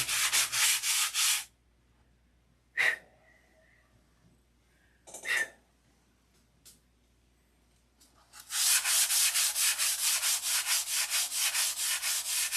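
Bursts of hand sanding on a car panel separated by quiet pauses with a few brief knocks, then a long stretch of steady rhythmic rubbing strokes close by.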